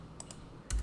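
Code is typed on a computer keyboard, a few quick faint key clicks followed by a slightly louder clack, all close and brief.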